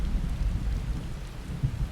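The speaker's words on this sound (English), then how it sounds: "It's raining, you're talking in the rain." Rain and rolling thunder in the video game Final Fantasy XIV, a dense, steady downpour hiss over a low, continuous rumble with no talking.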